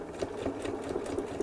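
A sewing machine runs steadily while top stitching at a lengthened stitch, a continuous close mechanical whir with a regular clicking pulse and no speech.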